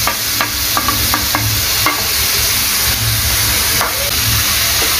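Ground turmeric, cumin, coriander and red chili powder sizzle and fry in a pan for shrimp malai curry, with close, repeated scraping stirs over a steady hiss.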